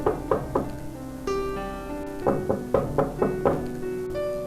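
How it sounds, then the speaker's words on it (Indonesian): Knocks land on the back of a car, several sharp hollow raps in short groups alongside sustained tonal notes that rise and hold, fairly close and clear. "dan dia mengetuk bagian belakang mobil kami."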